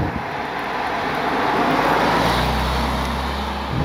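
A Bitter SC car cruises at about 2,000 RPM, its engine a low steady hum buried under broad tyre and wind roar inside the cabin, with a deeper rumble swelling toward the end.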